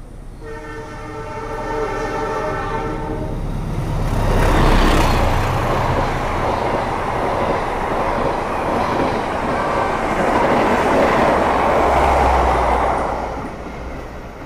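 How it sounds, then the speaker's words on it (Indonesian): The Argo Wilis express passenger train roars past close by at speed, a horn sounding briefly at the start before the loud rush of wheels and carriages fills the air and slowly fades. "barusan kereta api Argo Wilis melintas langsung ngebut banget ya"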